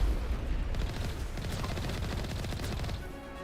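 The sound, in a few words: gunfire in video game Mass Effect Legendary Edition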